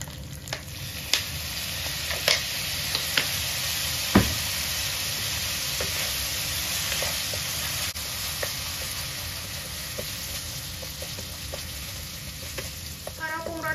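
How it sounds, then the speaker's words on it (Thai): Steady sizzling from a hot pan of rice with oyster sauce and seasoning sauce being stir-fried, broken by occasional scrapes and knocks of a utensil as the food is stirred and tossed. "แล้วก็ผัดให้เขาเข้ากันนะ"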